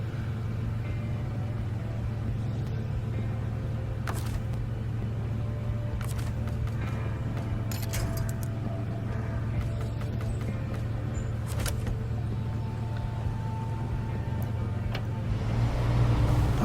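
A basic truck's engine straining in the SnowRunner video game, a steady low droning rumble held throughout with occasional clicks and knocks, rising slightly at the end.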